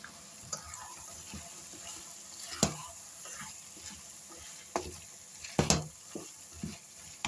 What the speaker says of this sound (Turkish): Biraz domatesle beraber pişirdikten sonra haşlamış olduğum barbunya üzerine döküyorum.